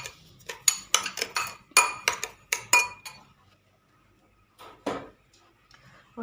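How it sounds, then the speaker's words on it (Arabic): A spoon stirs lemon zest with sugar in a bowl, giving a run of quick, close clinking and scraping strokes against the bowl's side that pause briefly and then return with a few more strokes. "غادي نحركهم مزيان"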